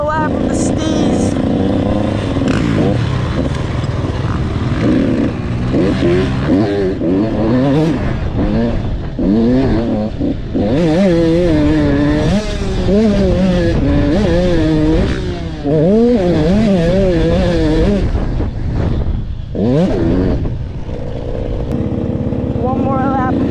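A KTM two-stroke motocross bike runs a dirt lap, its engine revving up and down loudly and close, with pitch rising and falling through throttle changes and gear shifts for the whole stretch.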